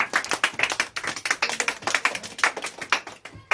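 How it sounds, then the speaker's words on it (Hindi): Class 8 children in a classroom clap together after a quiz answer, a dense patter of many small overlapping claps running steadily throughout, with no talking. "ताली बजाइए।"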